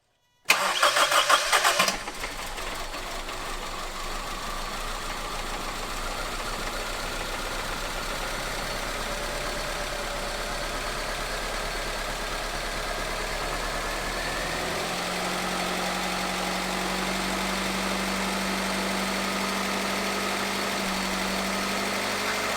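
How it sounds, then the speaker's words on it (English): A 2000 Honda CR-V with freshly rebuilt fuel injectors cranks with a loud burst, catches, and settles into a steady idle that runs on evenly, the engine note shifting slightly lower partway through. "we'll try and start the car up for the first time"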